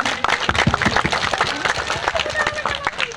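Audience applause for teachers at a school farewell event, dense and steady clapping from a nearby crowd filling the whole stretch, with faint chatter mixed in.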